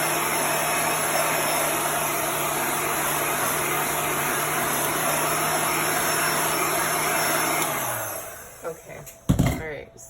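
A handheld heat tool blows steadily to dry a chalk transfer on a three-dimensional sunflower watering can project, making a loud, constant whirring hiss for about eight seconds before it switches off and winds down, followed by a few light clicks and handling knocks.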